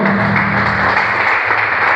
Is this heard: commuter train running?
no